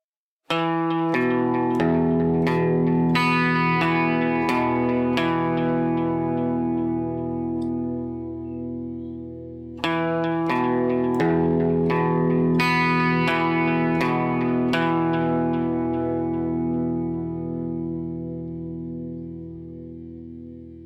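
Electric guitar notes are picked in a steady pattern, each repeated by a delay echo, ringing out and fading before the phrase starts again.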